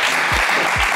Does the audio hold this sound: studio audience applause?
yes